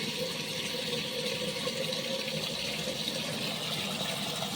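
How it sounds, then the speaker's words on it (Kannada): Drinking water runs steadily from a tap into a container, a continuous even rush that fills the whole stretch without pause. "ನಾನೀಗ ನೀರು ತುಂಬ್ಕೊಳಕತ್ತೀನಿ"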